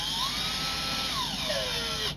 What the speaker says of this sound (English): So for the pilot hole I'm using just a small drill bit